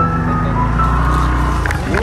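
A motor vehicle drives past on a rural road near mango trees, its engine a loud, steady droning hum filling the whole moment at close range.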